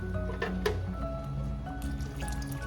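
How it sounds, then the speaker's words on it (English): Water is poured into a pot of sautéed mung bean soup with bitter melon, making a steady faint splashing and trickling with a few drips over a constant kitchen hum. "Put some more water."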